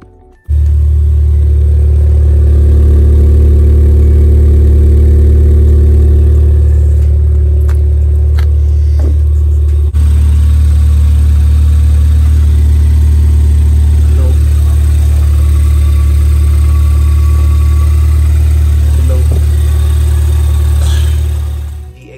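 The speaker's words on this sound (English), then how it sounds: "Exhaust is on the car now. It sounds wicked." Ford Fiesta ST engine idling steadily with a Scorpion aftermarket exhaust, a loud, close, deep continuous drone with a brief blip midway, running alone for over twenty seconds.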